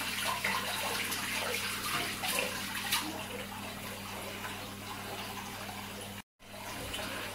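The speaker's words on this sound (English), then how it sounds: "Wash your hands." Hands are washed under a running tap, with a steady hiss and splash of water continuing throughout, fairly quiet, and a brief break near the end.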